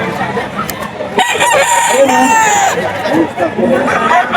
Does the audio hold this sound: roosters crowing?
yes